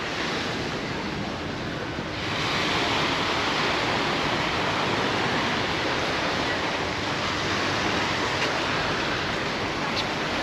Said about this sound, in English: We have got some waves here